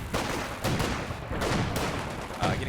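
Machine gun fire in the Company of Heroes video game, dense bursts of rapid gunshots with a few heavier thuds, loud and continuous across the short battle.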